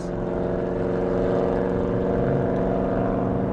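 A loud vehicle in need of a new muffler drones steadily nearby, its rough, constant engine rumble holding the same level throughout with no talking.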